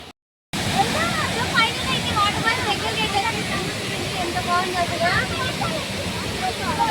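A steady, close roar of a waterfall in Munnar, Kerala fills the whole stretch, with people talking over the rushing water.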